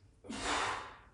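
A single heavy exhale breathed out during push-ups in an at-home chest workout with dumbbells, a close, breathy rush lasting under a second, heard on its own.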